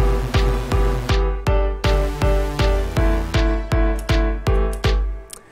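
A synth saw wave with unison spread, programmed in FL Studio, plays about a dozen loud, bright plucky notes in a steady even rhythm with no other sound.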